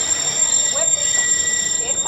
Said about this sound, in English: As we go into the station, please remain on board and seated until the train comes to a full and complete stop